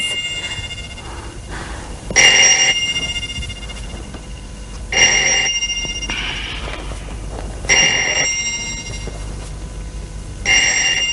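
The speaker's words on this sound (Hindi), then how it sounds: "प्लीज जाके फोन सुनो" An old telephone bell rings in a home, four loud bursts spaced about three seconds apart, with quiet room tone between rings and no talk.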